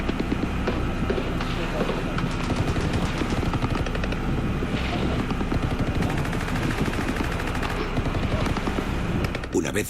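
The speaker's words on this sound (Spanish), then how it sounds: "Los piratas abrieron fuego salvajemente" Rapid bursts of gunfire crackle continuously, dense and loud, with a mechanical rumble underneath and no pause throughout.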